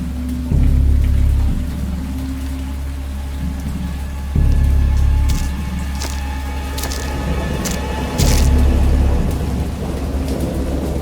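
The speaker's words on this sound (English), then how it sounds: "I have indistinct recollections of a great storm sometime after I reached the boat." Heavy storm with steady rain pouring down and three deep rumbles of thunder rolling in at intervals, loud and continuous with no voices.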